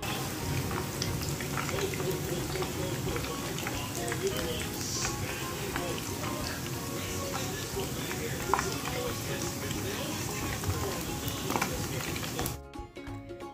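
Chicken koftas sizzle in hot oil with a steady, dense crackle and bubbling that runs throughout, dropping away abruptly near the end; a voice talks faintly under the frying.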